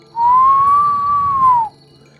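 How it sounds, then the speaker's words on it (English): A person lets out a single long whistle: a loud, clear, sustained note that rises slightly, holds for about a second and a half, then dips and cuts off, with nothing else around it. "let out a long whistle"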